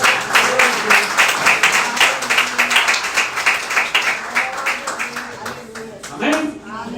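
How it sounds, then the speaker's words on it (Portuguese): A church congregation at Igreja de Nova Vida do Catete breaks into rhythmic, fairly close applause. It is steady for several seconds, then tapers off, with voices heard over and after it. "Uma salva de palmas ao Senhor."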